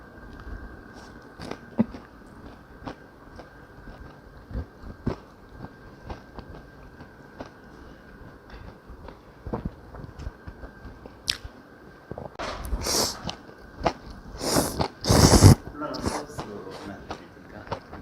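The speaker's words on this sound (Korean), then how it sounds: "탕수도 하나 먹어볼게요" Close, wet chewing and biting of sweet and sour pork (tangsuyuk) from a Chinese restaurant late-night meal, scattered mouth clicks and squishes growing into louder crunchy bites near the end, with brief speech.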